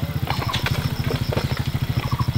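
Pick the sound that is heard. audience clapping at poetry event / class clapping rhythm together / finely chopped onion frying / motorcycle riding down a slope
motorcycle riding down a slope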